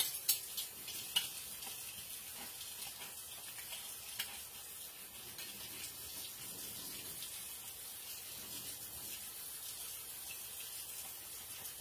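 Tap water runs steadily into a sink while dishes are washed, a soft continuous hiss and splash with a few faint clinks near the start, fairly quiet and with no talking.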